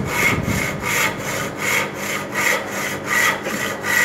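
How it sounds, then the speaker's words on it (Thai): Hand saw cutting through wood along a marked line, with steady back-and-forth rasping strokes, about seven in a regular rhythm, close and fairly loud with no talking. "เลื่อยไปเรื่อย"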